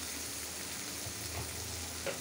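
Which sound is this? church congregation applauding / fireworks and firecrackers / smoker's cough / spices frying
spices frying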